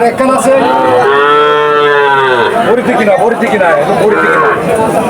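Calves at the Chuknagar cattle market in Khulna bellow in a long, loud moo close by, followed by more mooing amid a noisy crowd of talking people.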